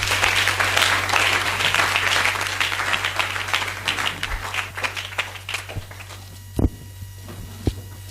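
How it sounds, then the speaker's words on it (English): Congregation clapping for Jesus at a Friday all-night church service, a dense sustained wash of applause that thins out near the end, leaving a few isolated claps and bumps over a steady low electrical hum. "Come on, let's clap for Jesus. Clap for him."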